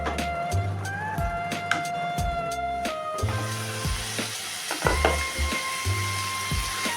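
Spices fry with a splash of water in a pan while being stirred for a Bengali shapla and prawn dish, giving a steady sizzle with scraping strokes and clinks, plus a low hum and intermittent background voices.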